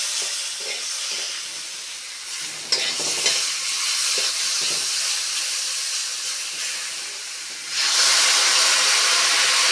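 Ridge gourd pieces sizzling in a pan of small fish curry, a loud, steady hiss and crackle with brief stirring knocks, swelling into a stronger burst of sizzle near the end.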